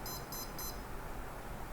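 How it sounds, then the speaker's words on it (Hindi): An electronic speed controller on a child-built drone beeping as the transmitter throttle is pulled down: three short, high-pitched beeps in quick even succession over a steady low hum, then the tone fades. "हम जैसे ही इसको नीचे की ओर करेंगे ना थ्रोटल को, देखो तो उससे साउंड आएगा बीप बीप और फिर बीप"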